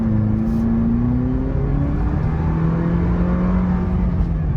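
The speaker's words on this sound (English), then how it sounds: "really try to do a wide open throttle blast here" A Toyota 4Runner TRD Pro under wide-open-throttle acceleration in normal mode, heard from inside as a loud steady engine drone whose pitch climbs through the gears, with a brief shift dip partway; no talking.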